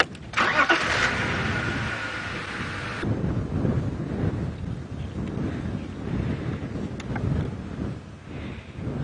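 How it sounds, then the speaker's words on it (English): A safari vehicle's engine starts with a short, loud cranking burst, then settles into a low, steady idle rumble, with gusting wind buffeting the microphone throughout. "let's just see how he reacts to the start of the engine"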